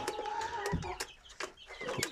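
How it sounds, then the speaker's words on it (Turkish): An Iğdır breed rooster clucks and calls nearby in a coop, with a series of short sharp vocal bursts and a sustained tonal note, plus faint scuffling. "Gerçekten herkesin beğendiği Iğdırlı horoz."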